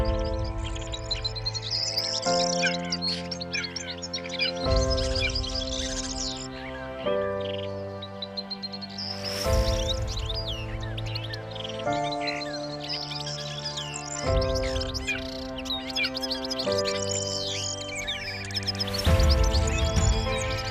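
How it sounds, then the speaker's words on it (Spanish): Birds chirp and trill in a pine forest near Marchena, with bright, scattered calls that run throughout over steady, chord-like background music. "En el pinar de Piñoneros, con sus altas y esbeltas copas, podemos observar aves como la tórtola, la paloma torcaz, el ratonero, el milano, el cárabo y el búho chico."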